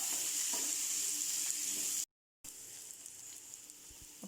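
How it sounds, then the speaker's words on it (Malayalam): Sliced onions sauté gently in a pan over low heat for a Kerala mutton curry, a soft, steady sizzle with faint stirring, interrupted once by a short gap of silence. "സ്ലൈസ് ചെയ്ത് വെച്ചിരുന്ന സവാള കൂടി ചേർത്ത് കൊടുത്തിട്ട് ചെറിയ സിമ്മിലിട്ട് നല്ലതുപോലെ വീണ്ടും വഴറ്റിയെടുക്കാം."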